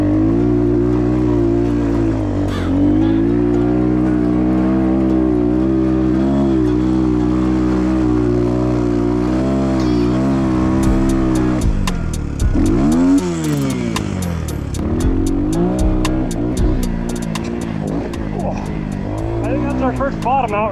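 A 250cc dirt bike engine revs and surges loudly throughout while being ridden, with its pitch swooping up and down as the rider pops a small wheelie and bottoms out the suspension, and a voice talks over it.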